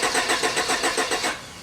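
A 1990 Honda Accord CB7 engine cranks after a fuel pump rebuild, with a fast, even, rhythmic churning of about a dozen starter beats that does not catch and fire.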